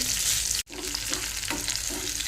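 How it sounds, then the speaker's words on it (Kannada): Garlic and urad dal fry in hot oil for tempering, giving a steady close sizzle with brief stirring scrapes, briefly cut off for an instant before the crackling resumes. "ಒಗ್ಗರಣೆಗೆ ಎಣ್ಣೆ ಹಾಕಿ ಅದಕ್ಕೆ ಸ್ವಲ್ಪ ಉದ್ದಿನ ಬೇಳೆಯನ್ನು ಹಾಕಿದ್ದೇನೆ ಇವಾಗ ಬೆಳ್ಳುಳ್ಳಿಯನ್ನು ಹಾಕ್ತೇನೆ"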